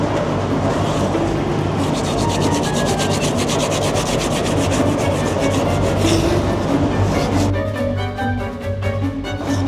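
Steady hand scraping on a metal part in a containership engine room, a continuous loud rasping that runs unbroken, with low engine hum underneath and a brief change in texture near the end.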